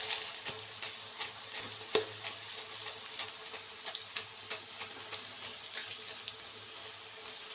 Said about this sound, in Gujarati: તો ગુંદ આપણે એમાં ઘીમાં નાખી દઈએ. ઘીમાં શેકી નાખીએ.